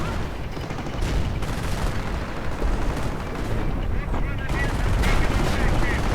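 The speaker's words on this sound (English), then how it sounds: "Basically just a mix of all sorts of artillery firing at one spot." Massed artillery barrage in Company of Heroes, many guns pounding one spot in a dense, continuous roar of overlapping booms and rattling fire that stays loud throughout, with a voice talking faintly underneath.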